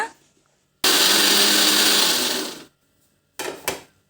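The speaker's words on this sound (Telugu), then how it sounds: "దానిలో మిక్సీ జార్లో వేసుకొని దీనిని నేను మెత్తగా పౌడర్లా చేసుకుంటున్నాను." A mixer grinder grinds bread slices into powder, whirring loudly for about two seconds, stopping, then giving a short second pulse.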